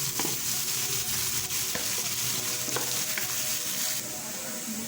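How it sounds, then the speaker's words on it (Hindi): Ground ginger fries with onion and garlic, a loud, close sizzle with sharp spatula scrapes and taps against the pan as it is stirred, the hiss easing slightly near the end. "अब हम इसमें ये पिसा हुआ अदरक शामिल कर लेंगे और मज़ीद इसको 30 सेकंड तक हम लोग इसकी भुनाई करेंगे"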